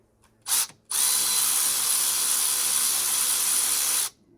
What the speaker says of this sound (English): now we're gonna get my freaking power wrench here. Torque this sucker down on there.